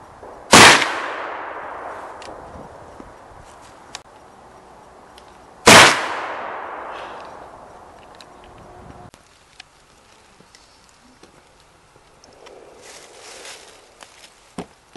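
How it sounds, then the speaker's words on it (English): Two loud, sharp black powder gunshots fired at a card target on an outdoor trail walk, about five seconds apart. Each blast rings out and slowly fades, followed by quieter outdoor sounds. "Each person took 2 shots into the same card, up to 4 points scored if both shots were within the card."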